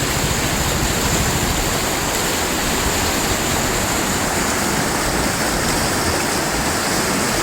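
River water rushes over large rocks near Dulao, Malibcong, Abra, a loud, dense, steady roar that fills the whole clip without a break, with no voices.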